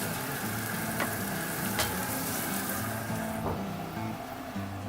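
Taco meat for Mexican street tacos cooking in a pan, a steady close sizzle and crackle with a few utensil clicks, fading slightly toward the end, no talk.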